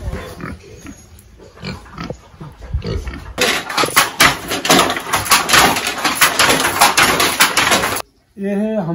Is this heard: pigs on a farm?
yes